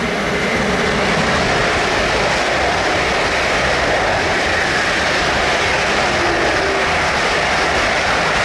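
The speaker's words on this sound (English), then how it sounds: "High-speed train is the fastest train." A fast train roars past with a loud, constant rushing rumble that holds steady throughout, no voices present.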